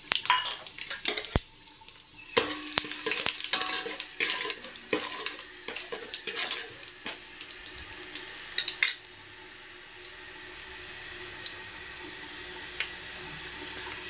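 Mustard seeds, cumin, chana dal and urad dal frying in about five spoons of oil in a pot for ugane, crackling and popping close up with sharp clinks and scrapes early on, then settling into a quieter sizzle.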